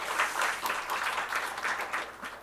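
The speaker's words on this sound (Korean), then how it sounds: "우리 잘생긴 아들 한번 박수로 한번 격려하겠습니다" A church congregation claps to welcome a visiting son, a dense, even patter of many hands at moderate distance, steady for a couple of seconds with no talking over it.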